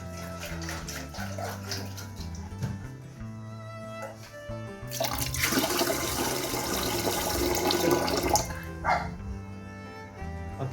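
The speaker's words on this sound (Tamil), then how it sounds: "தேவையான அளவு தண்ணி விடுவோம்." Water poured into a cooking pot while making Sri Lankan fried rice, a loud gushing rush of several seconds in the middle of the clip, heard over background music.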